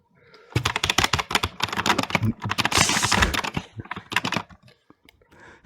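Rapid, loud clacking of keys on a mechanical keyboard, typed in fast bursts with short pauses between them.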